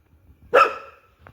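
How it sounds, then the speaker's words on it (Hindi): A single loud bark from a dog at close range, one sharp burst with a brief trailing tone, then a faint short sound afterward. "सारी रात ऐसे भौंकती रहती है"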